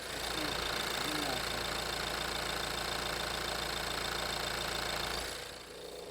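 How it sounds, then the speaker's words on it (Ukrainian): Steady idle of a 2022 Renault Trafic van engine, a close, even mechanical rumble with slight knocking texture that cuts off near the end. "Також зараз дам вам послухати, як працює мотор."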